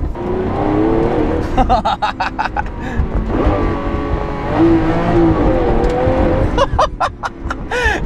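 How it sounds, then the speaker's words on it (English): A Lamborghini 720-class sports car engine revs hard and roars through gear changes, loud and close, with pops and crackles between pulls. "This car is fast. Listen to that engine, oh my God."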